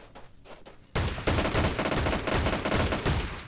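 Shotgun blasts in a mobile battle royale game, a loud burst of several rapid close shots starting abruptly after a quieter opening, with no talking.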